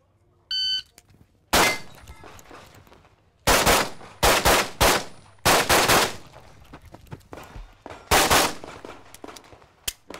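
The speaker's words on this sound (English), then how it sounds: "I just need to settle down and shoot the centers of the targets like I know how to do." Pistol shots ring out on steel targets during a shooting match, a sharp loud crack followed by quick clusters of rapid shots, each with a metallic ring, preceded by a short electronic start beep.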